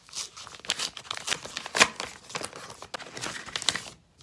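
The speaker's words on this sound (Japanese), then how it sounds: "封筒ですね。 これ開けてみます。" A paper envelope is torn open by hand in a series of close, crisp rips and crinkles spread over a few seconds, with no talking.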